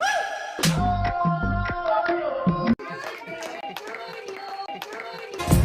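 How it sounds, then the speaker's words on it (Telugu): Hand clapping at a family birthday celebration, a few close claps mixed in with music and people talking. "అరే క్లాప్స్ కొట్టు అమ్మమ్మ."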